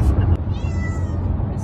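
A stressed cat meows in a car on the way to the vet, a single close, drawn-out cry over the low rumble of the moving vehicle.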